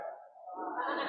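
A group of people in a Christmas Eve church gathering imitate a sheep, voicing a drawn-out, wavering baa that swells and rises in pitch over about a second.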